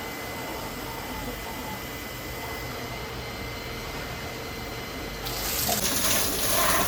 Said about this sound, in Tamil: இனிமேல் என்ன பண்ண போகிறோம்னா வாட்டர் வாஷ் பண்ண போகிறோம்.